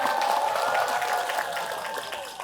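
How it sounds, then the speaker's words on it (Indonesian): Applause for the mothers in the audience at an Islamic religious lecture, a dense, steady patter of many hands that tapers off gradually over a couple of seconds. "Tepuk tangan untuk ibu-ibu semua."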